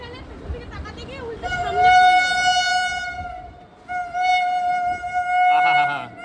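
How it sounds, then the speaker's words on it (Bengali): A train horn blares loudly in two long, sustained blasts over a rumbling train passing close by overhead. "3 নম্বর প্ল্যাটফর্ম থেকে একটা ট্রেন আসছে"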